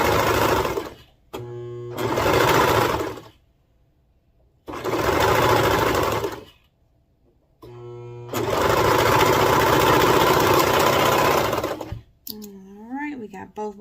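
A sewing machine top-stitching the seams of a baby bodysuit, loud whirring runs of several seconds each separated by pauses, ending with a brief voice.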